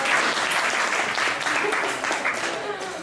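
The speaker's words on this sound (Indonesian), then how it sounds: "tepuk tangan dulu dong" Audience applause during a teaching demonstration at Politeknik Negeri Bandung, a steady dense patter of many hands clapping close by for the whole stretch.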